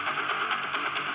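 A gritty, heavily distorted electric guitar made in FL Studio chugs loudly and continuously, with a buzzing, harmonically rich tone and slight rhythmic pulsing.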